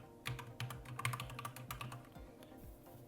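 Typing on a computer keyboard while entering a search into a website builder: a quick, steady run of clicky keystrokes, close and fairly quiet, with no talking.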